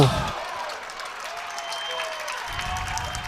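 Spectators cheer and applaud after a shot at a boys' soccer regional semifinal between Lexington and Shawnee, a steady, moderately distant crowd roar with clapping and a commentator talking over it.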